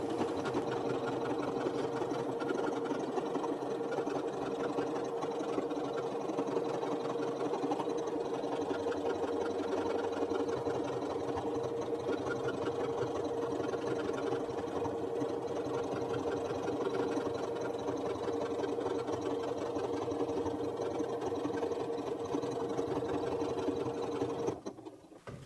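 A Janome Memory Craft 9480QCP sewing machine stitches embroidered letters, giving a steady, continuous mechanical whir with a fast needle rhythm that runs close and unbroken for about 25 seconds before stopping abruptly at the end.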